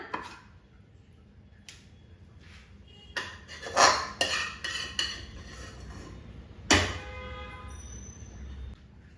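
Kalakand sweet is spooned into a serving dish, with metal utensils clinking and scraping against it in scattered bursts, a few louder knocks standing out over a quiet kitchen background.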